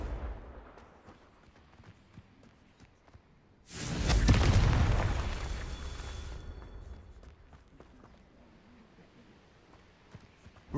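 A Confringo fire spell blasts in Hogwarts Legacy: a sudden loud booming burst with a rumbling roar that slowly decays over a few seconds, set against quiet game ambience.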